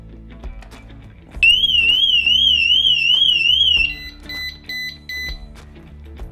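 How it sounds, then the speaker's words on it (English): A loud warbling electronic siren wails steadily for a few seconds, then switches to a series of short repeated beeps, close by: the alarm on a KTM 1290 Superduke R motorcycle going off during lithium battery installation. "Yep, the alarm went off."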